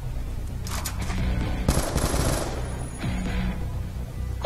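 Machine gun fire in the video game Call of Duty Black Ops II, a loud sustained rattling burst that carries through most of the stretch and mixes with dense, close game noise.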